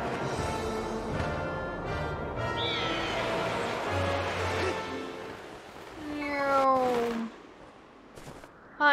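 A cartoonish cat meows in The Legend of Zelda: Skyward Sword, a short rising and falling call over game music and background noise.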